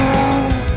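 A classic Nissan Gazelle rally car driven hard on a rally stage, its engine a loud, close, sustained drone with shifting pitch and a couple of brief surges, with no talking over it.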